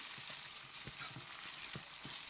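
Chicken filling with a cornstarch-and-water slurry cooks in a pan for steamed bun filling, a steady close sizzle broken by soft rhythmic scraping stirs about every half second.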